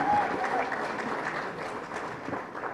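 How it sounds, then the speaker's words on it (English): At a community college scholarship fundraiser, an audience gives a round of applause, moderately loud, even clapping that holds steady, with some voices in the hall beneath it. "Round of applause again for Juliette Lewis, everyone."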